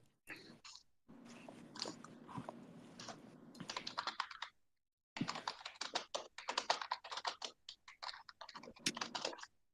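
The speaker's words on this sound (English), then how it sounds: "Sorry, my noisy keyboard." Clattering keystrokes on a noisy computer keyboard, typed in fast irregular bursts close to the mic, with a brief pause midway before the rapid typing resumes.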